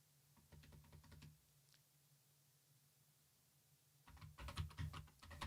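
Keys clack on a computer keyboard as an email address is typed in, a quick burst of close tapping, a pause, then a denser, louder run of keystrokes at the end.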